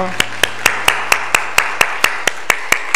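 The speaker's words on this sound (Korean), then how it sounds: "하나님께 영광의 박수 올려드리겠습니다." A church congregation claps in unison during a Sunday worship service, giving about a dozen sharp, evenly spaced claps in a steady rhythm, loud and close.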